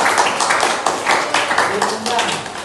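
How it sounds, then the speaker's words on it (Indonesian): Classroom students clapping together in a brief round of applause, steady close patter of many hands under a voice. "Kasih tepuk tangan dulu lah"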